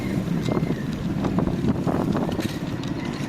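Steady low rumble of a ship crossing open water toward Surigao, with wind buffeting the microphone and faint splashing throughout.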